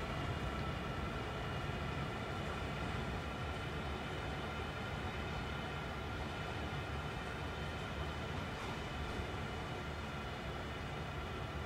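An empty coal freight train hauled by an NS GP38-2 diesel locomotive in Train Sim World 2 runs steadily, giving a continuous low engine drone with rolling rail noise and no voices.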